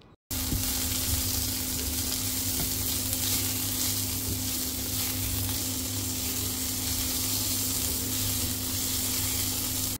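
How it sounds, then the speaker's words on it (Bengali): Coriander leaves and other ingredients frying in a pan, giving a steady, loud, continuous sizzle with a low hum underneath, starting abruptly and holding evenly throughout with no voices. "ওই উপকরণগুলোর সাথে এটাকে ভালোভাবে ভেজে নেব"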